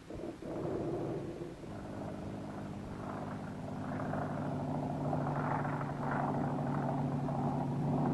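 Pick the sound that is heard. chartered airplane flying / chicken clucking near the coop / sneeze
chartered airplane flying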